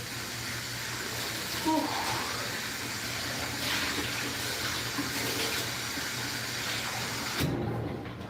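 Hot water runs from a tap or is poured into a measuring cup to make naan dough, a steady splashing rush at close range that fills most of the clip before cutting off near the end.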